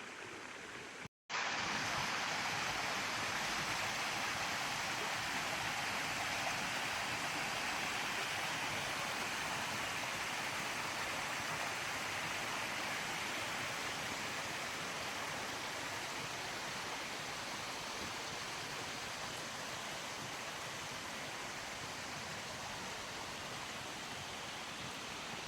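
Na Ella waterfall roars as a loud, constant rushing wash of falling water, steady and unbroken after a brief cut at the start, with no voices.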